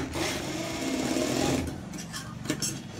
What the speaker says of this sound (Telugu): ఇలా ఫోల్డ్ చేసి ఈ పై వైపున కుట్టు అనేది వేసేసుకోవాలి